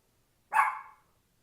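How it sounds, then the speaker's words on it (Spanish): A single short dog bark rings out sharply against silence, one clear yelp-like bark with a quick decay, moderately near. "El perro que no se calla."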